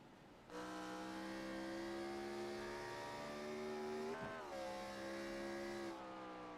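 Race car engines in iRacing at Watkins Glen hold a steady, loud high-pitched drone, with a brief dip and gear-change blip partway through before the engine note climbs again.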